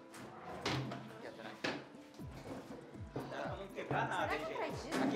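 Drawers and cupboard doors in a room are opened and shut in a hurried search, giving a series of close thuds and slides while people talk over them.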